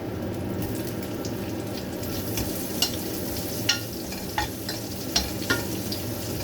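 Garlic and onion sautéing in a pan for pork steak give a steady, close sizzle, with a few sharp spatula taps and scrapes at irregular intervals.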